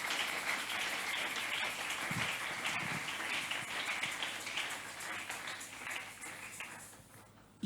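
A church congregation claps steadily for the Lord, a soft, continuous patter of many hands heard from a distance, with low voices mixed in.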